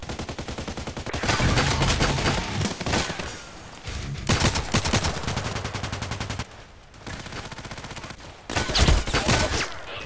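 Rapid automatic gunfire in the online shooter Contract Wars rattles in loud, dense bursts broken by short gaps, with no talking over it.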